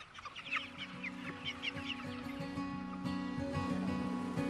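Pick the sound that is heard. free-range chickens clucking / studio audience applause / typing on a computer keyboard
free-range chickens clucking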